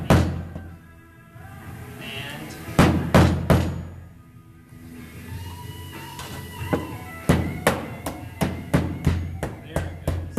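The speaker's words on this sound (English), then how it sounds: "you may have to take the hammer and just lightly tap the pin." A hammer lightly taps a pin into a robot track splice, giving sharp, close metallic knocks: a few spaced strikes, a pause, then a quicker run of taps, with someone talking quietly in between.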